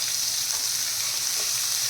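Finely chopped onion frying with peanuts in a pan, a continuous close hiss of sizzling oil with faint stirring, no voices.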